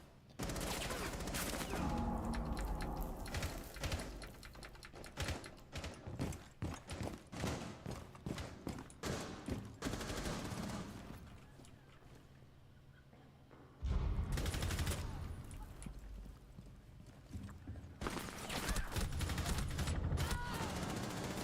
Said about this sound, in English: Of course they were shooting from both fucking angles